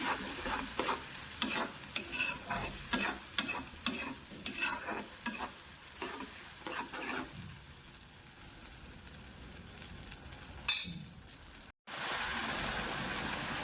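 Chicken masala fries in a pan with ingredient paste, a steady sizzle broken by repeated scraping stirs, fairly close, before a brief louder clatter and a steady hiss near the end.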